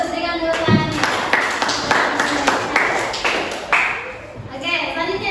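Students clap in a classroom during a lesson, with several bursts of hand claps in an uneven rhythm and voices talking over them.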